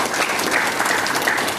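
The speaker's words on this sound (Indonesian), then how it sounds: "Ya, tepuk tangan dong." Loud, dense applause from a group at a landscape training session for a gardener team, continuous clapping that fills the whole short stretch without any talk.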